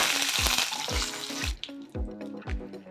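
Dried red chillies and urad dal frying in hot oil in a pan, with a steady sizzle and repeated clattering knocks of a utensil stirring, near and without speech.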